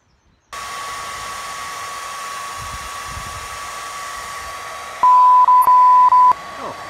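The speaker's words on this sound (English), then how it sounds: "we'll get the hairdryer and just give it a gentle blast with some sort of warm air just to blow the condensation off" A hair dryer blows a gentle stream of warm air onto a fogged camera lens, making a steady, close whooshing hum that runs unbroken. A short series of electronic beeps sounds near the end.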